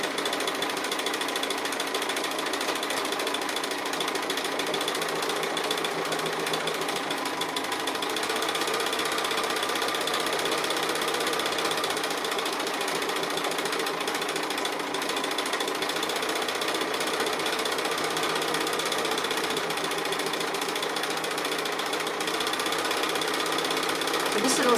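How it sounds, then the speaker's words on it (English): A sewing machine does free motion stitching on applique with dark thread, its needle chattering in a fast, continuous mechanical rhythm, loud and close throughout. "stitch each little leg, and then come back over it again, so it's a little bit heavier than just a single line of stitching"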